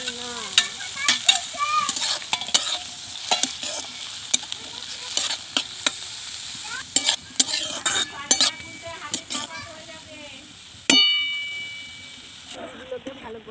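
Pui mitul leaves and onion leaves fry and get stirred in a pan for a rural Bengali dish, with steady close sizzling, repeated scraping strokes of a spatula and a bright metallic clink near the end.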